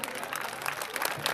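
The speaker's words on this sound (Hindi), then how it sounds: "पूरे सदन से दोनों हाथ उठा के ताली बजे" An audience at a large TikTok gathering in Gahmar, Ghazipur, Uttar Pradesh claps together, a brief, dense burst of applause that stays steady and moderately loud.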